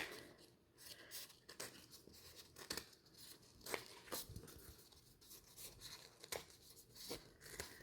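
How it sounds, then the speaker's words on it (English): Repeated snips and slicing from sharp scissors cutting away excess fabric at close range, with soft rustling between the cuts. "take a pair of really sharp scissors and cut away as close as you can to the edge"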